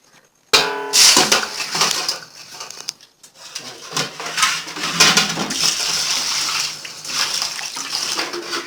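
Water splashes and sloshes in a large pot as mutton is rinsed by hand, with bursts of pouring and swishing over several seconds.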